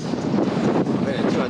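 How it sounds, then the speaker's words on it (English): Wind at a Turkish beach in Sarigerme, a loud, steady rumbling buffet against the microphone filling the short moment. "It's a bit windy here"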